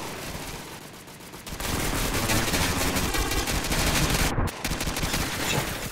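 Gunfire in the video game PS3D, dense rapid automatic bursts that blur into a continuous loud clatter, close and sustained with a brief gap, no talk.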